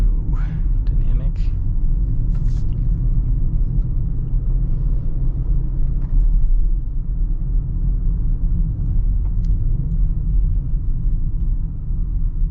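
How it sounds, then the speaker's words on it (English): A 2025 Audi SQ8 V8 in dynamic mode under light partial throttle, its exhaust giving a steady low rumbling drone with faint gargling burbles, heard from inside the car. "Just barely getting into it, and you just get gargles out of the exhaust"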